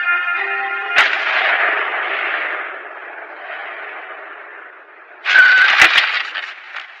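Distant gunfire from an anime military drill: a sharp crack near one second, then a rolling echoing rumble, followed by a second cluster of loud shots near the end.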